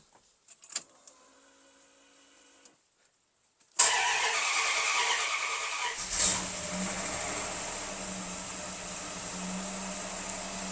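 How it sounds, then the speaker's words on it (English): A car engine cranks and fires up after some faint jingling and clicks, then settles into a steady close idle with a rising whir as the wheels spin with the car up on jack stands; no one talks. "I'm going to fire it up, give it a few spins while it's still on the jack stands"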